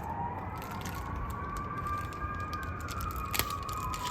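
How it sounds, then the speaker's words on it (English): Emergency sirens wail steadily in the distance outdoors, a faint rising and falling tone over a constant low rumble, with one brief clank near the end during a front wheel bearing swap on a MadAss scooter. "Oh, sirens."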